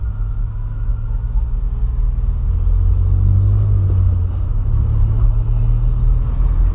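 Volkswagen Polo driving on new tires, heard as a steady, loud low rumble of engine and road noise from inside the car, rising slightly midway and continuing without break.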